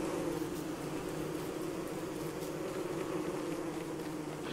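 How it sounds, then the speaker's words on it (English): Killer bees in the Don't Starve Together video game give off a steady, dense buzzing drone that holds evenly for the whole stretch at moderate volume, with no talk over it. "Why are there so many killer bees here?"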